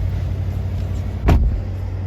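A 2022 Cadillac Escalade starting up, heard from outside the vehicle: a single short, loud burst of engine cranking and catch over a steady low idle-like hum, then settling back.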